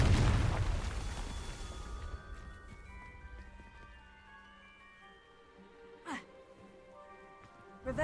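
A Confringo blasting spell erupting in Hogwarts Legacy: one heavy, booming explosion at the start that decays into a long ringing, shimmering tail, then a couple of short sharp magical bursts.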